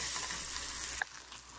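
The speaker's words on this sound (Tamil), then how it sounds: "கடுகு பொரிஞ்ச உடனே வெங்காயம் தக்காளி போட்டு வதக்கிடுங்க." Steady, loud hissing and crackling of onions and tomatoes sautéing in a hot pan after mustard seeds pop, close up, cut short by a clink before the sizzle drops away.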